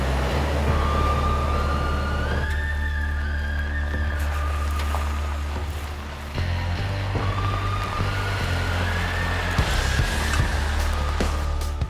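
A vehicle drives along a road into the Nevada mountains near an old silver-mining town, its steady low engine rumble loud and continuous throughout, shifting gear or pitch partway, with faint tonal whines above.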